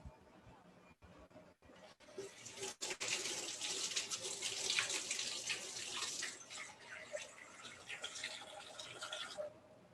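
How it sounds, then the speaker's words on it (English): Hot water runs from a kitchen tap to soak dried chilies for tortilla soup, a steady close splashing stream that starts after a few clicks and runs for about seven seconds before cutting off. "Let me get a little hot water and we'll put them in there."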